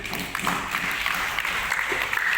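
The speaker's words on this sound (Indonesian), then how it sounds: "Saya minta tepuk tangan untuk semuanya." Audience applause at a regency council plenary meeting in Pasuruan, a steady wash of clapping from a crowd that fills the room throughout at an even level.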